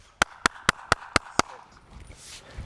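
Hand clapping used to introduce puppies to gunfire during dog training: six sharp, evenly spaced claps in quick succession, then quiet outdoor background.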